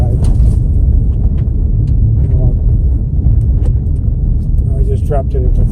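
A vehicle in drive climbs National Forest Service Road 42 toward the Springer Mountain trailhead, its engine and road rumble a loud, steady drone throughout, with faint rattles and creaks on top.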